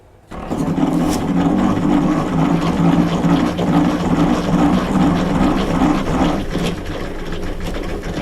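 A honey extractor spinning a frame gives off a loud steady mechanical whir that starts abruptly and holds a droning hum with a faint rattle throughout.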